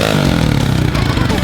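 A motorcycle ridden on a bare rim with the tire removed, its engine revving and rumbling up close with a clattering, scraping edge, people speaking over it.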